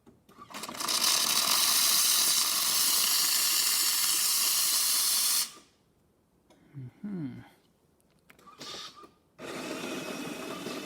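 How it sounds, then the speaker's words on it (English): The steam wand on a Jura Impressa coffee machine hisses loudly and steadily for about five seconds, stops, then after a quiet gap with a brief voice and small clatters it bursts back into a strong hiss. "Now we're gonna test the steam on the side of the machine."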